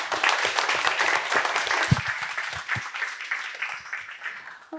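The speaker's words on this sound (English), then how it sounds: "And the round of applause." Audience applause at the close of a startup pitching session at an innovation forum, a dense, steady patter of many hands clapping that lasts throughout and tails off slightly at the end.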